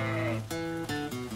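Sheep bleating in a flock of about 500 being herded by dogs across fields, loud overlapping wavering bleats close by.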